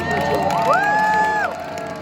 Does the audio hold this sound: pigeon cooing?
no